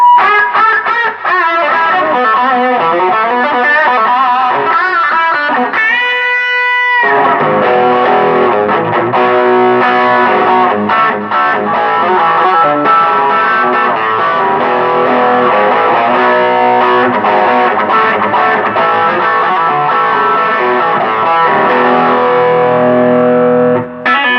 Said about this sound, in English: When you stack them, you're going to get feedback sitting this close.